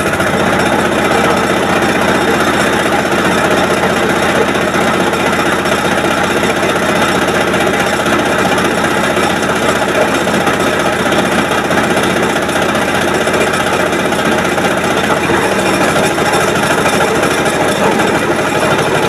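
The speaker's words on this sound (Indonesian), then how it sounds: "Itu ya cara mudah untuk starter daripada mesin ini ya, ataupun mobil ya teman-teman." A car engine started without the ignition key runs in a steady, loud, rattling idle throughout, close up and unbroken, with no voices.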